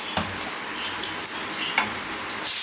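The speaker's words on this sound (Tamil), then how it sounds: "எண்ணெய் நல்லா சூடு ஏறட்டும். சோம்பு இந்த அளவுக்கு ஆட் பண்ணிக்கிறோம்." Fennel seeds sizzling and crackling in hot oil in a pan for a Karnataka-style chicken fry, a steady close hiss with sharp pops scattered throughout and a louder burst near the end.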